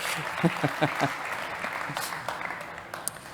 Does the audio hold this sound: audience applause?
yes